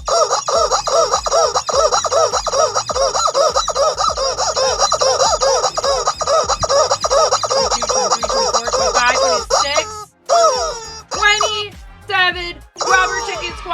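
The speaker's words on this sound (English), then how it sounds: "Rubber chicken squawks with 3 rubber chickens for your tier 3." Three rubber chickens squawk as a stream alert, a loud, dense run of honking, rubbery squeals that fills most of the stretch before breaking into a few separate, sputtering squawks near the end.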